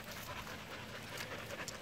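An Airedale Terrier puppy pants quickly and steadily close by. The breathing is soft and continuous, with no talking over it.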